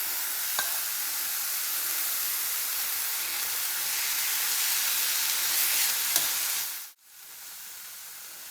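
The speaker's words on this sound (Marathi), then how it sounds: "आता याच्यामध्ये ॲड करायची आहे जी आपण पालक आणि मटारची पेस्ट केलेली आहे ती, आणि आपल्याला चांगली परतून घ्यायची आहे" Spinach and pea paste sizzles steadily in a hot pan, a continuous frying hiss with faint stirring scrapes that cuts off abruptly near the end.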